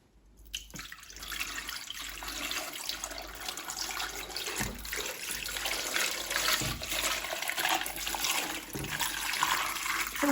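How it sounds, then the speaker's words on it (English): Water poured into a glass vase already packed with balls, a steady full-bodied splashing stream running continuously and growing slightly louder, with no talking over it. "And now I'm going to add the water."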